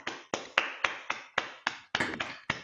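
Online meeting participants clap after unmuting: about ten sharp, separate claps in a steady, fairly quick rhythm, close and clear, with no talking.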